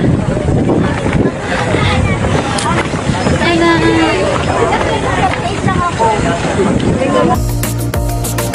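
Loud motorboat engine and rushing water on a ride between islands at the Hundred Islands in Pangasinan, Philippines, with wind gusting on the microphone and people chattering over the drone.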